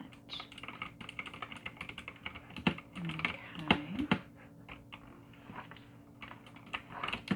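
Keyboard typing in a soft-spoken ASMR dating-service roleplay: steady bursts of close, crisp key clicks with uneven rhythm, a quiet voice murmuring underneath at times.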